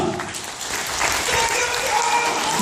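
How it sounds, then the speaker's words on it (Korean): Wedding guests in a Jinhae wedding hall applaud the groom's entrance with steady, loud applause that fills the room throughout, and a voice speaks over it. "여러분들 박수가 필요합니다. 우리 신랑 입장!"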